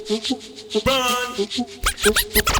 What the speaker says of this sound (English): So those are live scratches